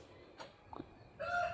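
A rooster in a rural yard lets out a crow that rises near the end, preceded by a few faint clucks and soft background noise.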